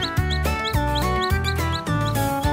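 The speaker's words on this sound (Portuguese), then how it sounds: "Cacarejos e resmungos daqui pra lá. Ui, que bagunça no galinheiro." Chickens cluck in a busy, noisy henhouse in a cartoon farm game, with loud, bouncy calls repeating in a steady rhythm about twice a second.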